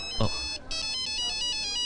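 A mobile phone ringtone for an incoming call in an action film climax scene: a bright, repeating tonal melody rings steadily through the whole moment, with a short thump or voice at the start.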